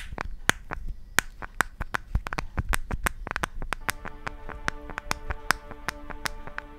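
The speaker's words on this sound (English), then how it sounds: "the flimsy, squeaky back cover, which sounds like this" A series of sharp plastic clicks and creaks, quick and irregular, close up, from the flimsy, squeaky plastic back cover of a Nokia Lumia 925 phone being pressed and flexed.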